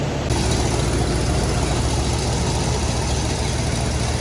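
A 1966 Oldsmobile Toronado barn find, revived after decades, idles steadily up close with a loud, even engine rumble and no voices.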